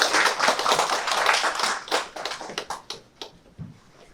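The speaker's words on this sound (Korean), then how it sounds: "나오실 때 큰 박수 부탁드리겠습니다" An audience at a seminar on sustainable development in Daejeon claps for a speaker coming to the stage. A dense burst of applause thins into a few scattered, fading claps.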